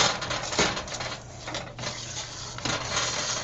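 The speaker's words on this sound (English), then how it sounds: "So I'm just incorporating the oats, continuing to mix them in." Oats being stirred into a no-bake, gluten-free oatmeal cookie mixture in a pot with a spatula, giving a steady scraping, clinking clatter against the pot sides, close and moderately loud, with no talking.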